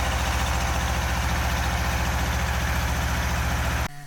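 An old tractor engine idles steadily up close, a loud, even low-pitched throb with a fast regular pulse that runs throughout, then cuts off abruptly near the end.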